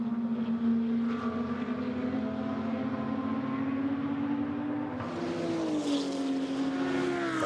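Lamborghini GT2 race cars run at speed at Monza, one high, droning engine note holding steady and then climbing sharply as a second car passes close by, with no voices over the engines.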